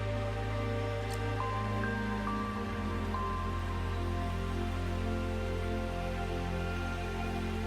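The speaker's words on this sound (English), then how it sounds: "as it gently rained into the night" Gentle rain falls at night beside a porch, a steady soft hiss of drops with a low constant hum beneath and faint tonal whistles, even and unbroken throughout, no voices.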